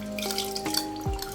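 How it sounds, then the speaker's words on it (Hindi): Milk is poured into a jug while making rice firni, giving a steady, close liquid pour with a faint ringing tone and small splashes, finishing with a short low gurgle. "ये है मेरे पास जग और इसमें हम डालते हैं ये दूध।"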